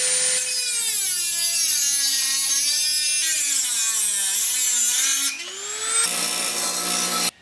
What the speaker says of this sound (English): I'll use the grinder now to tidy it up